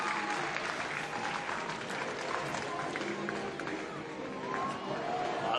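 A stadium crowd at an outdoor athletics meet in Perth claps and cheers during a javelin attempt, giving a continuous, spread-out wash of applause and crowd noise under a commentator's voice.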